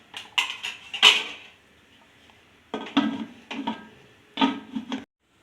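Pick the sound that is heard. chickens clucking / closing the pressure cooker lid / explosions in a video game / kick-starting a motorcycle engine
closing the pressure cooker lid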